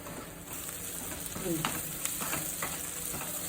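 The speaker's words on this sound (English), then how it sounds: "So now cooking low flame for 5 minutes." Tindora (ivy gourd) frying over a low flame, a soft steady sizzle with a few scraping stirs of a spatula partway through, fairly quiet and even throughout.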